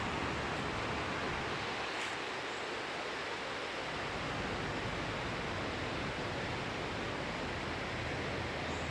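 Wang Sao Thong Waterfall on Koh Samui, Thailand, roars as a dense, steady wash of falling water, broadband and unbroken throughout, close and loud with no voices.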